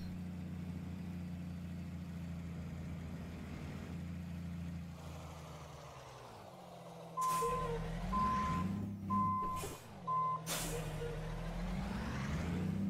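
An Australian truck emits steady, evenly spaced reversing beeps over its idling diesel engine, with short hissing air-brake releases marking the start and end of the beeping.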